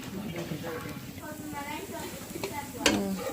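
Dosa batter frying in light oil on a hot pan gives a steady, soft sizzle with occasional clinks, running beneath a voice talking throughout.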